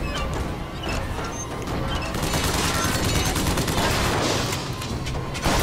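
Dense, loud shotgun blasts and gunfire from the video game BioShock Infinite fill the scene with continuous crashing bursts, nearly unbroken and close up.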